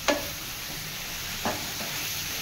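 Grated beetroot and carrot stir-fry sizzles softly and steadily in a pan. Two brief spatula scrapes cut through, one at the start and one midway, with no voices.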